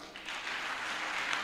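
Crowd of churchgoers clapping during a worship service, a dense continuous patter of hands that swells slightly and holds steady, filling the space without any voices on top.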